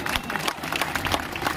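Applause from a crowd at an outdoor public event in Bhopal's Neelbad area, a dense, continuous wash of clapping that stays fairly loud throughout.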